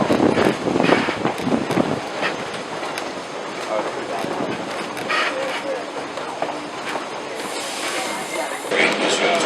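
Black Hills Central 1880 tourist train rolling along on its ride, a steady rumble with rail clatter and heavy wind buffeting, while a narrator talks over it throughout.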